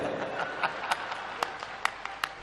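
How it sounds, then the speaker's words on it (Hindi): A crowd applauds at a large Rudraksha festival gathering in Sehore, with a dense, steady patter of clapping and a few sharper claps standing out over about two seconds. "एक बार जोरदार ताली बजाएं"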